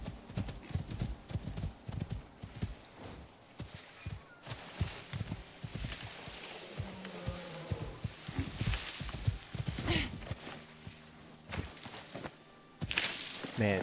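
A horse in the video game Icarus plods along with steady clip-clop hoofbeats, with thuds and faint shuffling mixed in, over a low, continuous background for the whole stretch.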